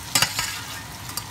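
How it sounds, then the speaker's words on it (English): Calabrese and sweet potato stirred in hot oil in a pan: a few quick scraping strokes over a low, even sizzle, close by and brief. "just going to stir this all in,"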